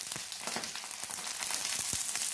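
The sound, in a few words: food pieces frying in a pan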